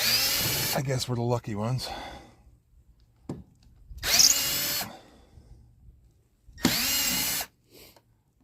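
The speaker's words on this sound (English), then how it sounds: "we can just start removing these screws." Power drill backing screws out of a 2005 Fleetwood Niagara pop-up camper, three loud whirring bursts of a second or so each, separated by quiet gaps, with a person talking at the start.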